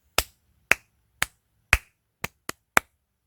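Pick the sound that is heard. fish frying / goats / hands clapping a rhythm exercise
hands clapping a rhythm exercise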